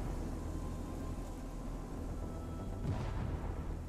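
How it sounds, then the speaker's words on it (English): Continuous rumbling blasts and heavy booms from a dinosaur video game, a dense roar of explosions with one sharper burst near the end, no speech. "I hear explosions."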